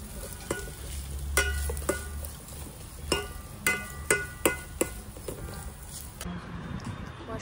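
Mushrooms being stirred in a cooking pot, with a run of sharp spoon-against-pot knocks and scrapes over a low sizzling bed, close and fairly loud, alone without talk.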